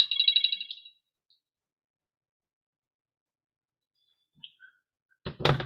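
A phone ringtone trills in a rapid electronic pattern for about a second, then stops, leaving near silence; a brief sound and the start of a voice follow at the end.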